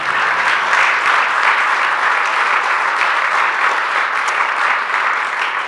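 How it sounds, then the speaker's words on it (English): Loud, sustained applause from an audience at an affordable housing press conference, a dense continuous clapping wash held steady throughout. "You can clap."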